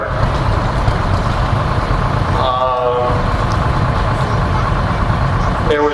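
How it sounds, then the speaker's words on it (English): A John Deere 8020, an articulated four-wheel-drive tractor with a six-cylinder Detroit diesel, runs at a John Deere expo in New York with a loud, steady engine rumble while voices talk over it. "is an 8020 four-wheel drive, Powered by a 6-cylinder Detroit diesel, owned by Jack Tomian in Stanley, New York."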